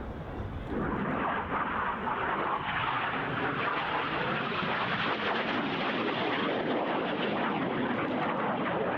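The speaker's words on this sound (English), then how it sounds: "Each aircraft will perform a barrel roll, followed by inverted flight in a manoeuvre called the crossbows." Red Arrows jets roar low overhead during the RAF Cosford 2025 air show, rolling into a barrel roll and inverted flight, with a loud, continuous broadband rush that swells in and holds steady for the full stretch.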